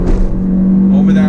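A 2019 Honda Civic Sport Touring hatchback pulling through a turn on throttle, its steady engine drone rumbling close beneath a voice.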